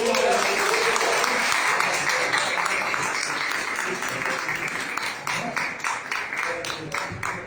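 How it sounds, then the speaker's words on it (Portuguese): Pentecostal church congregation clapping hard together, loud sustained applause that thins toward the end into more distinct individual claps, with voices faintly underneath. "Vamos soltar as palmas bem forte"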